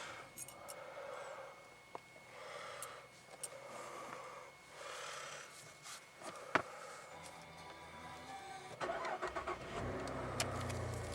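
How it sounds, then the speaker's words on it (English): A 2017 Holden VF2 Commodore Evoke, heard from inside the cabin, gives a few faint clicks and taps before its engine cranks and catches, then settles into a low, steady idle. "Beautiful startup."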